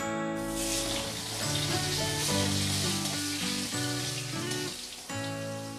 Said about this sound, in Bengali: এবার আমি মাছ ভাজা তেলের মধ্যে আলু ভেজে নেব।